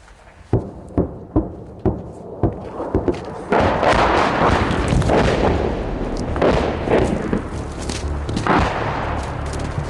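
Artillery shells landing close by in a combat zone near a tank, a rapid series of booming thuds at first, then a dense, loud roar of continuous blasts and rumbling.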